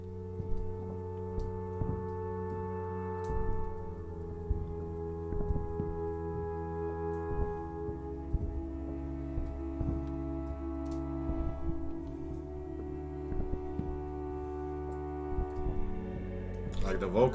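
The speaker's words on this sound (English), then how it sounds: "If you listen to the track, you can hear the vocals in the background of a choir" Electronic rework of a Bach choir recording, with sustained layered tones and a low droning bed running throughout, faint ticking accents scattered on top, steady and moderately quiet.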